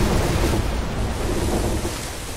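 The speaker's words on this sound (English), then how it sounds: "Here comes the water!" Rushing water floods in during the Outer Wilds: Echoes of the Eye game, a steady loud broadband roar like surf and wind that holds without break through the whole stretch, with no voices over it.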